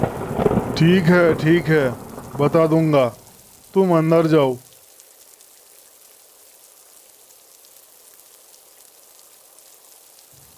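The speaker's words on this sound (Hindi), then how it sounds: "मैं तो बस बारिश के मज़े ले रहा हूँ।" Steady rain pours in a Hindi cartoon, with a hyena standing out in the storm and thunder implied, the hiss running under a man's speech and then continuing alone and fairly faint after he stops.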